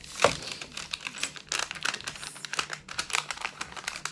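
Gift wrapping paper folded and creased at the ends of a package, giving close, crisp crinkling and rustling with quick sharp crackles in irregular bursts.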